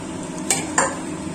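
Rice for bajra khichdi is stirred and roasted in spices in a pan, making a steady close sizzle broken by two quick scraping strokes of a spoon.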